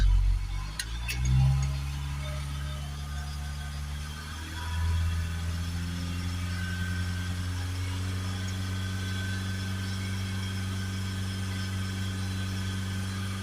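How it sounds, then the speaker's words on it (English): An idling 2.3 diesel engine in a Mitsubishi Outlander revs up briefly a couple of times during a DPF check, then settles into a steady, low rumbling idle; close and moderately loud, no talk. "give it a little few squeezes until we've got the right revs that we want"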